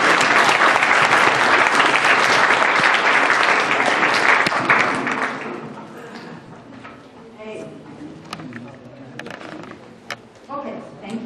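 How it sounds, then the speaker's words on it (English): Warm audience applause at a scholarship event, loud and dense at first, then thinning after about five seconds into scattered claps and low room noise, with a few sharp isolated claps near the end. "so please give her a warm round of applause"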